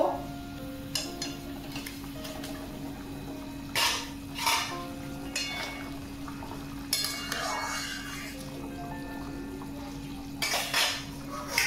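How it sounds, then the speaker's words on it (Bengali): Papaya koftas going into boiling gravy in a pot, with a steady low bubbling under scattered clinks and scrapes of a spoon against the metal pot, close and moderately quiet. "ঝোলটা ফুটে গেছে, কোপ্তাগুলো দিয়ে দেব।"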